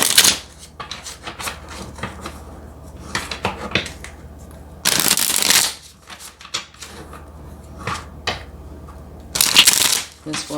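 Tarot cards being shuffled in several loud riffling bursts with softer handling and card-slapping between them, close to the listener, with no talking.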